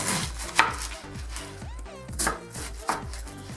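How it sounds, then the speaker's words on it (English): A knife slices through fish tofu on a cutting board in a series of soft, rhythmic chops that land on the board, close and fairly quiet, with a few firmer taps standing out. "I'm going to take it one more time and just slice this way as well"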